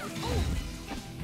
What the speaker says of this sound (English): Just smashing Omochao with the hammer is so funny.